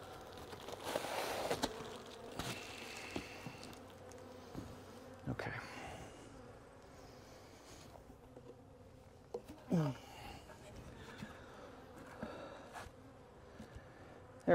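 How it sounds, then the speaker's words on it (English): Honeybees buzz around a hive after a shook swarm, a steady close hum with individual bees passing the microphone, plus a few faint knocks and handling noises. "So we'll just have some lost bees for a bit."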